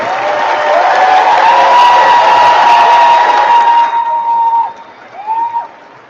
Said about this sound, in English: Let's give our class of 2026 a huge applause for all their accomplishments thus far.